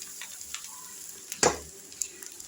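Rice tipped into hot frying oil while making fish-head biryani, giving one brief loud sizzling burst over a low background of frying and faint stirring clatter, close up.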